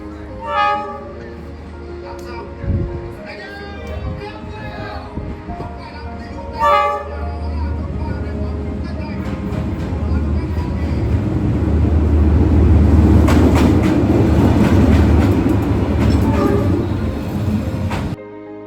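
A train rolling along Hanoi's Train Street, a narrow residential lane in Vietnam's capital, building into a broad, sustained rumble over the second half amid street noise and a few voices.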